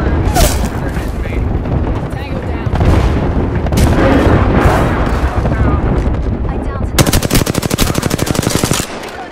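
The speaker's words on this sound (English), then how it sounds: "Shots fired." Gunfire in the Apex Legends video game: dense, loud bursts of automatic weapon fire with heavy booming impacts, ending in a rapid, evenly pulsed stream of shots.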